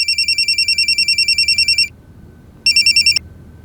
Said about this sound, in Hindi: सर रिंग जा रहे हैं अंदर।